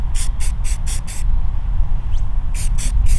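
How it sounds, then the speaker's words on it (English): A spray can hisses in short regular bursts, five quick sprays then a pause and three more, as brown stripes are painted onto climbing sticks, over a low steady background rumble. "I ended up just spraying three stripes of brown and then hitting some highlights"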